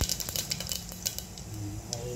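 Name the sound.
cumin seeds added to hot oil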